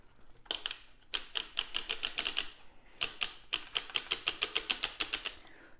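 Circular sock knitting machine cranked through one row, a fast even run of sharp clicking needle strikes with one brief pause partway, close and crisp, no speech.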